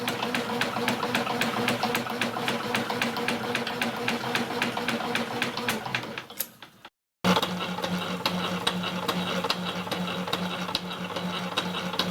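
A compact mechanical hobby hacksaw runs with a fast, even mechanical ticking and whir, pauses briefly midway, then resumes at a steady pace, close and moderately loud.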